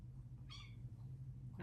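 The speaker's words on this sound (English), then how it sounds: "My little baby cat here, he's very funny." Pet cat giving one short, faint meow indoors over a low steady hum, with another sound beginning just at the end.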